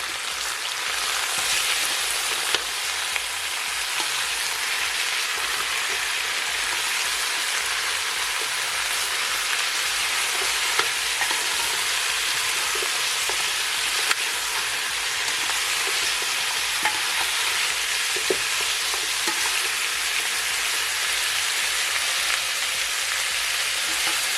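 Oxtail frying in a pot for Jamaican oxtail, a steady continuous sizzle with occasional faint clicks as the meat is turned, no voices.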